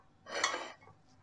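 A chicken and puree mixture with diced roasted pepper is stirred in a bowl, a single short scrape and clink of a utensil against the dish, fairly quiet.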